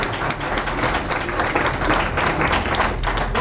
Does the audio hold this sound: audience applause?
yes